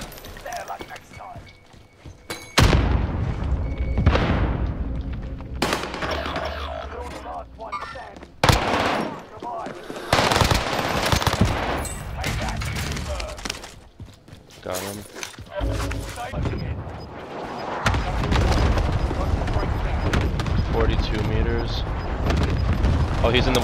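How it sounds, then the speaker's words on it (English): Gunfire in Call of Duty Warzone on Fortune's Keep, shots fired through a wall at an enemy: loud, irregular bursts and single cracks scattered through the clip, with players talking over much of it. "I'm shooting him through the wall."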